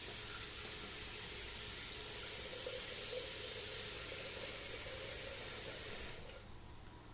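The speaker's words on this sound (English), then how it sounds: "I'm just going to pre-clean this now by adding water" Water poured into a Thermomix bowl for pre-cleaning, a steady rushing splash and gurgle close by that holds evenly for about six seconds before tapering off.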